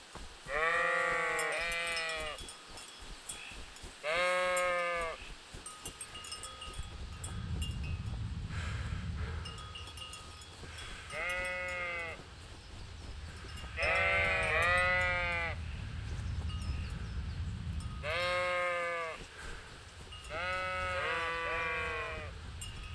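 Sheep bleating in the video game Kingdom Come: Deliverance, several loud wavering bleats in separate bursts at intervals over a low rumbling background, no talk.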